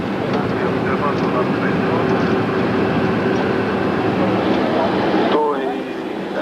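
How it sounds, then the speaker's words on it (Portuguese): A DC-10 airliner roars steadily during its takeoff run, a loud, broad and sustained jet rumble with a faint higher whine that drops a little near the end. "observando o DC-10 da companhia decolando"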